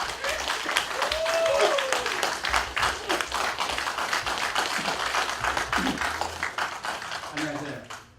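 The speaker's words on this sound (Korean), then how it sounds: "여러분 박수 부탁드립니다." Moderate audience applause at a Korean travel lecture as a guest speaker is introduced, steady clapping throughout with faint voices and room noise mixed in, fading toward the end.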